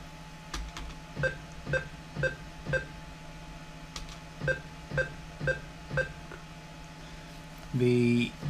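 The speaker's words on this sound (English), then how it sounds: "The metronome is coming from the speaker of the PC out of the monitor." A PC speaker ticks out a steady metronome from a Voyetra Sequencer Plus Gold setup running on a Raspberry Pi, about ten even clicks at a quick tempo over a low hum, ending in a short buzzy tone.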